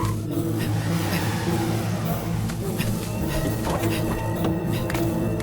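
In a dramatic film scene, a car engine roars and revs loudly and without a break, with tire squeal and skidding mixed into a dense, busy soundtrack.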